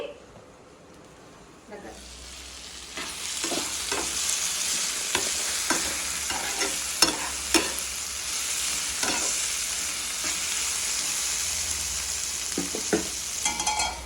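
Chopped tindora (ivy gourd) cooks in a pan for a roti chutney while being stirred. A constant frying hiss runs under repeated close scraping strokes of the stirring utensil.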